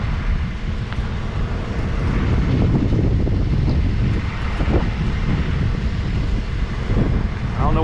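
Large firefighting airplane roaring overhead in western North Carolina, a loud, broad engine rumble swelling and sustained across several seconds with wind buffeting the microphone, no talking.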